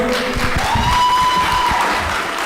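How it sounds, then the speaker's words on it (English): Dense, continuous clapping from an audience at a refugee forum, loud and close, lasting a couple of seconds. "Can we have a huge round of applause for our performers?"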